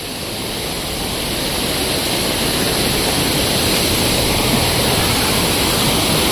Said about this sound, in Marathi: सुंदर असा आकेरीचा हा वॉटरफॉल.